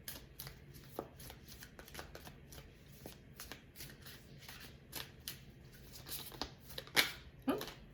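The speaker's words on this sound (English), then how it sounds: "What I'm shuffling now is the Star Spinner Tarot." Star Spinner Tarot cards being shuffled at close range, a quiet run of soft riffling and tapping bursts with a couple of sharper clicks near the end.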